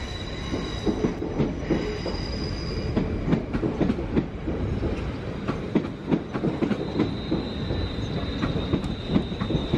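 A passenger train from London Euston rumbles and clatters along the rails at Stafford station at moderate distance, with faint squeals and a thin high whine near the end.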